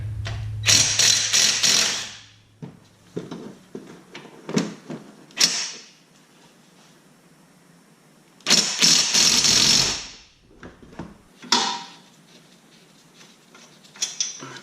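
A ratchet with a swivel and a socket works on transmission bolts of a 2013-2019 Nissan Versa Note CVT. Loud, close bursts of rapid clicking come in several spurts separated by quiet pauses and softer clanks.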